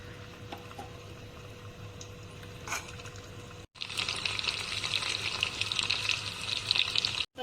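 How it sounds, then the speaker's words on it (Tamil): Chicken deep frying in hot oil, a steady close crackle that bursts into a louder, dense sizzle and spatter about halfway through as more pieces hit the oil. "நம்ம இதில் ஒரு சிக்கனை போட்டு மெதுவாக பொரிச்சிக்கலாம்."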